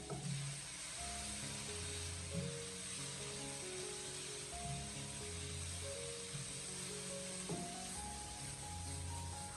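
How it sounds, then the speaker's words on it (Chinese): Blanched cauliflower stir-fried in a wok over high heat after a splash of cooking wine, giving a steady, continuous sizzle and hiss that runs under prominent background music. "这个时候我们将火候改为大火，将它快速的翻炒一下，将其翻炒均匀"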